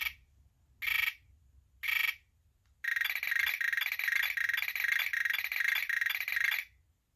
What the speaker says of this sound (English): The toy trains chugged, talking dolls chattered cheerfully, and buzzes and beeps blipped from Busy's robot.